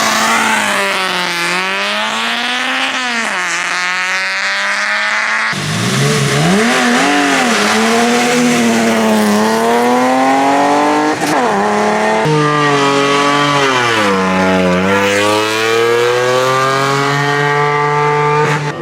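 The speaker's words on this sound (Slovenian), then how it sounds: "Kasneje tukaj zraven avspuhov je to glasno, da kar vibrira." Loud car exhaust roaring and vibrating close by, engine revving up and down in sustained rising and falling waves for the whole stretch, with no talk.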